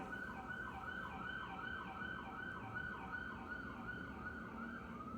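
Wailing emergency sirens rise and fall steadily throughout, sustained and fairly loud, with a low rumble of road traffic underneath.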